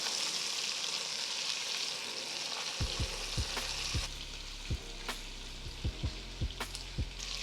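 Sausage and beef fry in a pan with fat rendering, giving a constant loud hiss of sizzling, later punctuated by a series of sharp spatters and pops, heard close up.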